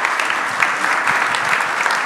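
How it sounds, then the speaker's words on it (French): An audience applauds a school director at a brunch event at a healthcare training school in Lyon: steady, dense clapping from a crowd that fills the whole moment, close and fairly loud. "Allez, on l'applaudit."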